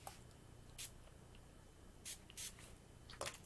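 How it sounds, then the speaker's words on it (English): Perfume atomizer spraying in short separate hissing bursts, about four or five quick puffs spread over a few seconds against a quiet room background. "3 sprays."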